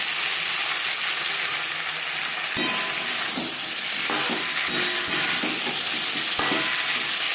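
Four peeled, cut potato pieces fry in a pan with a spice tempering for an ilish fish curry. A loud, continuous sizzle is broken by scraping stirs and clatters from about the middle onward, with no voices.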